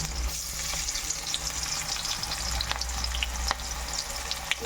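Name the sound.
raw onions frying in pan for mutton curry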